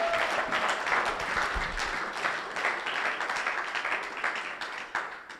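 A church congregation applauding in a steady, sustained wave of clapping mixed with scattered cheers, fairly loud and continuous with no pause.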